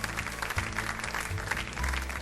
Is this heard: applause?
yes